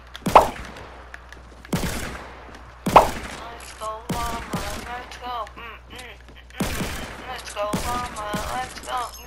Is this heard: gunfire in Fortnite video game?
yes